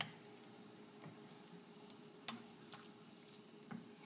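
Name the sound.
stirring Thai red curry with soy sauce in a pan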